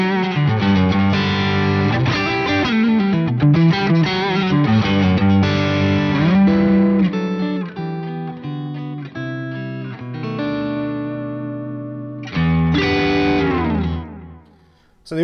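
Electric guitar on the neck pickup played through a Wampler Dual Fusion overdrive pedal, a smooth driven tone running through a fast flowing line of notes with sustained phrases, loud and close with no talking.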